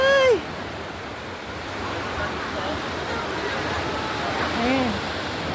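Big ocean waves surge and crash in a strong monsoon wind at a beach in Alicia, Bohol, a steady broad roar of surf that swells near the end, with voices talking briefly at the start.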